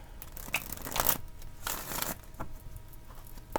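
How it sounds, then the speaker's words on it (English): Tarot cards are shuffled by hand in a quiet room, soft papery riffles and slides in a few irregular bursts, close and faint, with no talking. "I have to shuffle"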